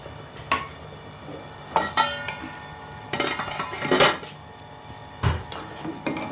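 Chopped onions are stirred into a pot of boiling chicken nihari, heard as a few sharp metallic clanks and scrapes of a spoon against the pot over a low background hiss.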